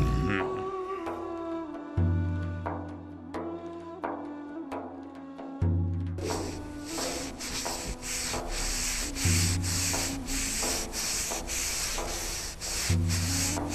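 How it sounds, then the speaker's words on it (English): An animated sound effect of walls being polished to a shine: repeated rhythmic rubbing and scrubbing strokes, close and steady, over a musical backing. "the Roman ones were polishing and shining the walls."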